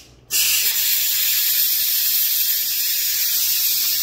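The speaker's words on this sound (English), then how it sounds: "I'm gonna let the steam out so it can like get to where I can open it up." Steam bursts from the release valve of an electric pressure cooker, a loud, steady, close hiss that starts abruptly after a brief quiet moment and continues without a break.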